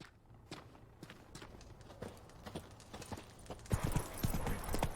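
Clip-clop of the horse Roach's hooves in The Witcher 3 video game, a steady walking rhythm that grows louder and heavier near the end, with no talk.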